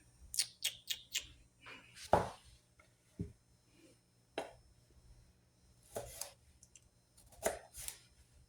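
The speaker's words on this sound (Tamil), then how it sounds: "சின்ன சின்னதாக கட் பண்ணணும்" A knife cutting raw sour mango into small pieces for pickle, making scattered sharp clicks and taps against a board, close and faint, irregularly spaced over quiet background.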